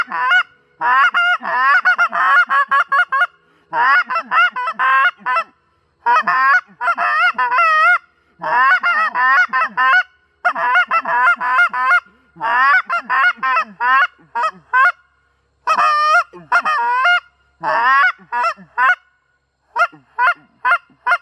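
A goose call blown by hand gives loud, close honks in rapid clustered bursts, mimicking a goose, repeated in uneven runs with short pauses between them.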